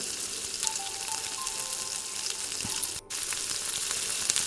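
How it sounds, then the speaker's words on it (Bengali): Bread triangles deep-fry in hot oil for shahi tukda, giving a steady, close, continuous sizzle and bubbling that runs throughout with only a brief dip near the end. "তেলের মধ্যে আমি ব্রেডগুলোকে কুচকুচোভাবে ফ্রাই করে নেব"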